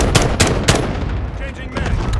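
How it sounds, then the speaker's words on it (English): Gunfire in the video game Modern Warfare 2019, a 64-player ground war at Karst River Quarry, cracks out in several close, loud rapid shots followed by a dense rattling battle din. "Allied precision airstrike incoming."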